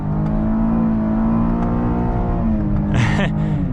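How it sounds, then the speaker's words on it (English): A 2023 Cadillac XT5 with its standard V6 pulls hard at full throttle, a loud, steady engine drone heard from inside the cabin that climbs in pitch and briefly dips near the end. "It's pretty peppy, I will say, for being just the normal V6. Full throttle."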